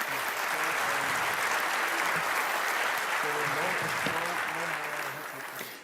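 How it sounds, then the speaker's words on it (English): Conference audience at the European Collaboration Summit applauding steadily, a dense continuous wash of clapping throughout that tapers slightly at the end, with voices faintly audible underneath. "let's get an applaud for Aris and Mustafa and Spence"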